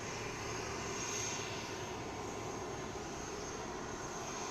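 ATR turboprop airliner taking off at Christchurch Airport in New Zealand, a steady broad engine roar heard from a distance, fairly faint and unbroken throughout.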